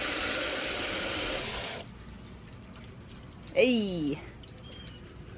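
Water rushes steadily into a budget glass fish tank being filled for a leak test, a loud, even hiss that cuts off abruptly, followed by a short spoken exclamation.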